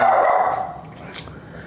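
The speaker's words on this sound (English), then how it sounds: "She's barking for no reason." A pet dog named Molly barks in a short burst at close range, loud at the start and then tapering into lighter household noise, with no voices over it.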